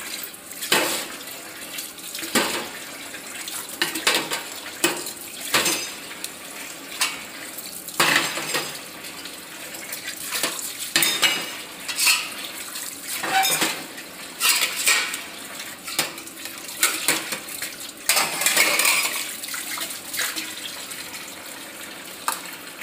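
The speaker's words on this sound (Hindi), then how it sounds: "बर्तन भी हैं धुलने के लिए बर्तन धुलती हूँ" Dishes, pots and cutlery being washed at a home kitchen sink: repeated clinks and clatters of metal utensils and pans over running tap water, close and steady with no talking.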